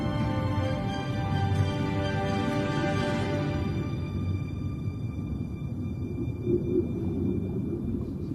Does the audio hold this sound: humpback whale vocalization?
yes